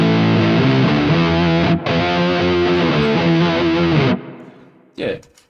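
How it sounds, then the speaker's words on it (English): Muted guitar strings played with heavy fuzz and a sweeping flanger on a Quad Cortex, a loud chugging pattern that stops abruptly and is followed by a brief pause and a short noise. "if you just do like muted strings, play those, you can hear the flanger nicely."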